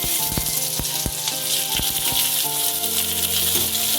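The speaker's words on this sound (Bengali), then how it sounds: "এবার পেঁয়াজ কুচি দিই" Chopped onion frying in mustard oil with whole cumin in a wok, a loud steady sizzle with several sharp crackles and pops throughout, no voices.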